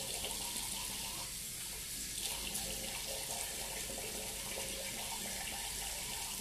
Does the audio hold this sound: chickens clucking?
no